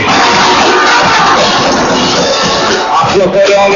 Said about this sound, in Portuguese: Vamos aplaudir a passagem da Banda Escola Cruzinha